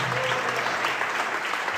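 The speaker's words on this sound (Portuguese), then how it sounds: "aplauda o Senhor" Church congregation applauding as a worshipper comes forward, a steady dense wash of clapping held at an even level throughout, with faint voices mixed underneath.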